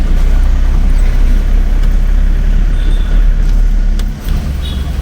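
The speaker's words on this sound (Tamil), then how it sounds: "செம டிராஃபிக்" Heavy road traffic heard from inside a moving vehicle on a route from Villupuram to Chennai: a steady, loud low rumble of engines and road noise, with a brief dip near the end.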